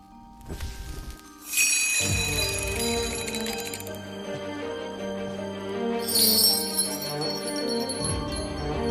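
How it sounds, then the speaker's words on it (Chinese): A small hand bell rings with bright, shimmering tinkles, starting softly then sustained, with a second burst of jingling near the end. "你看着我手中的铃铛，每听到一声响"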